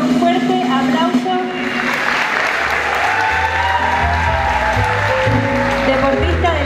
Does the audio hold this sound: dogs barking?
no